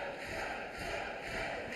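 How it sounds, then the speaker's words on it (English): Wrestling crowd in an arena during a Joe Hendry match, a dense continuous roar of cheering voices, steady and fairly distant with no breaks. "Listen to the crowd, man."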